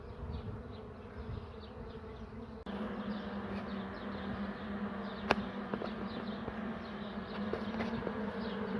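Honey bees drone densely around an open hive during frame work with a honey super being added, a steady close buzz with occasional sharper passes of individual bees and a brief knock partway through.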